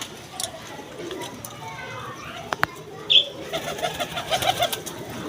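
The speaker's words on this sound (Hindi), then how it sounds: "ये देखो एक से बढ़ गए एक कबूतर नासिर भाई के पास मौजूद है।" Pigeons coo softly in the background amid scattered chirps and a brief flutter, while someone talks over them.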